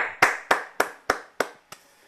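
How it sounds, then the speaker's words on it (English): Audience applause at an evening talk on climate change, heard as six sharp, evenly spaced clap bursts over about two seconds, loud and close, fading slightly toward the end with no voices. "And let's give Ian a clap"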